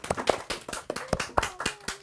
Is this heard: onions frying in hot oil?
no